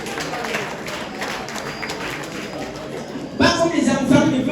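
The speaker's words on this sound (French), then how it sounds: "s'il vous plaît, applaudissez" A stand-up comedy audience in Cameroon bursts into clapping near the end, loud and dense after a stretch of murmuring crowd and voice, with applause building over the final second.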